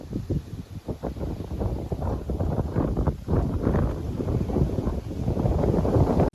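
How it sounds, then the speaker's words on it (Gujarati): Strong wind on a farm before rain buffets the microphone in a continuous, heavy roar with gusty surges, loud and unbroken throughout. "પવન કેવો છે જો પવન વધ્યો છે"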